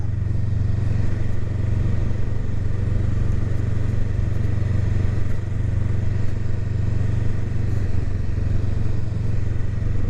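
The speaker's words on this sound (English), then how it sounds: "I absolutely love the exhaust note for stock" A stock exhaust on a 2023 Honda Rebel 500 SE motorcycle idles in a steady, loud, close rumble that holds without a break throughout.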